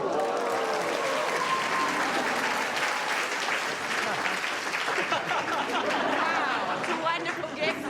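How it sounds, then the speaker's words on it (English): A studio audience at a televised singing competition show applauds steadily and loudly for the whole stretch, with chatter and a few laughs mixed into the sustained clapping. "a bit of a pity clap there from Lady Six"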